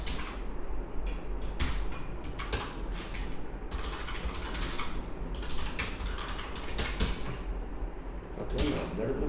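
Steady, fast typing on a computer keyboard while entering code, with dense clicking keystrokes continuing throughout at close range.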